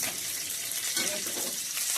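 Cumin, mustard seeds, urad dal, chana dal, dried red chillies and curry leaves sizzling and crackling in hot oil in a kadai, a dense steady frying hiss throughout.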